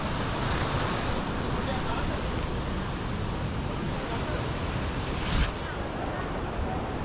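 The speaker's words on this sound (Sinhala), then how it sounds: "මේ දවස් ටිකේ වැහි වැඩි හින්දා වතුර පාර දැන් වැඩි වෙලා තියෙනවා" River water rushes strongly after heavy rains at Rangala, a steady loud broadband roar filling the whole stretch without pause, close and continuous.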